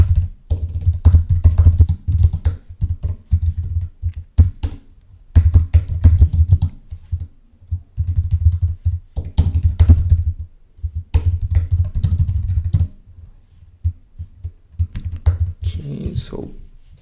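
Code typed on a computer keyboard, close bursts of rapid key clicks with short pauses, and a voice speaking quietly under parts of it.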